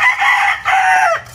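A rooster crows once, loud and close, a single drawn-out call that rises, holds and falls away in just over a second, with no other sounds around it.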